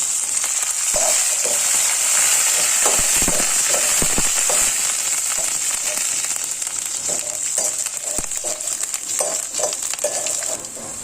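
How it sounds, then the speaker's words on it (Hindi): Coriander, cumin, green chillies and peanuts sizzle and crackle in a hot pan, a continuous close frying hiss with scattered sharp pops throughout. "धनिया मिर्ची और मूंगफली अच्छे से फ्राई हो चुकी है"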